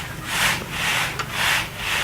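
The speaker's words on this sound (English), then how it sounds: "sifting the sand for the plastering." Sand for plastering is sifted through a screen at a house under construction, giving a steady rhythmic scraping hiss in about four even strokes back and forth, close and alone.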